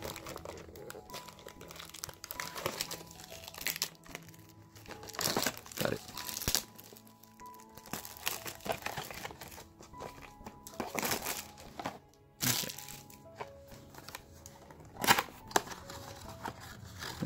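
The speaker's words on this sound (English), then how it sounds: "Just gotta rip off the plastic somehow." Plastic wrapping is torn and crumpled off a Pokémon trading card mystery box, close and loud crinkling and ripping in irregular bursts with short pauses between.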